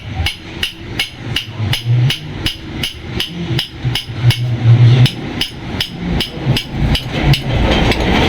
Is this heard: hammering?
yes